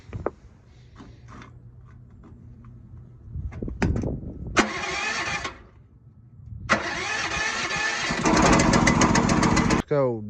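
Predator engine on a Groundhog mini excavator cold starting at 20 degrees: a few cranking pulls and short sputters, one brief catch that dies, then the engine fires and settles into a loud, steady idle with revving near the end.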